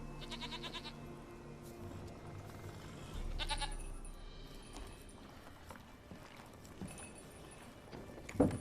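Goat bleating in The Witcher 3 video game, a few short nasal bleats over a busy game soundscape with clopping steps and ambient noise.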